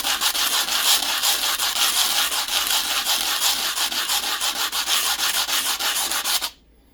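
A coin ring made from Irish pennies is sanded by hand with fast, even rubbing strokes, a close and continuous rasping that stops abruptly near the end.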